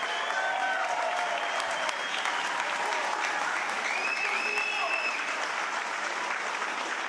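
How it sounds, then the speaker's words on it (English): Sustained audience applause fills a boxing event arena, a steady dense wash of clapping with faint crowd voices mixed in, constant and loud for the whole stretch. "A big round of applause."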